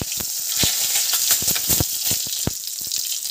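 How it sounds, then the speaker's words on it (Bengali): Cumin seeds and a bay leaf sizzle in hot mustard oil for a jackfruit curry, a steady, loud hiss with crackling pops throughout, close up and with no talking. "তেল গরম হয়ে গেছে, দিয়েছি সর্ষের তেল। এবার দিচ্ছি জিরে ফোড়ন, দিয়ে দেবো তেজপাতা"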